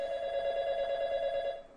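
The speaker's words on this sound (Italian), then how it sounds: "Ecco che arriva un'altra telefonata." An incoming call rings on a telephone as one steady electronic tone lasting under two seconds, fairly faint and with no voices over it.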